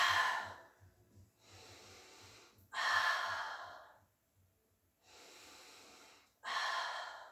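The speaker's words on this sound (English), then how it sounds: "stay here and breathe." Slow, deep breaths during a mat pilates class: long audible exhales alternating with quieter inhales, five breaths in a steady rhythm, close and alone.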